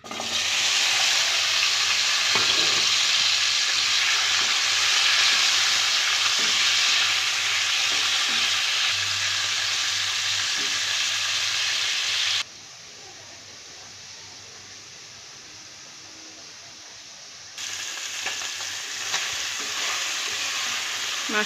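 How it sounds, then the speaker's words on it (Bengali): Magur catfish fries in hot white oil in a kadai, giving a steady loud sizzle and hiss with soft stirring clatter. It drops quieter for a few seconds and then sizzles up again. "মাছটা উল্টে পাল্টে হালকা ভেজে নিয়েছি।"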